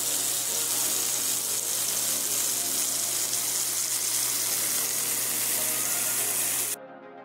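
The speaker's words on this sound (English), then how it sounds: "enjoying the delicious smoky smell of marinated steak frying" Steady, loud sizzling and crackling of marinated steak frying in a hot pan, continuous throughout, then cutting off abruptly near the end.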